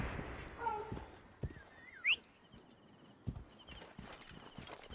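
A horse in the game Assassin's Creed Origins clops its hooves in a few soft, scattered steps amid quiet outdoor ambience, with a brief bird-like cry and light background sounds.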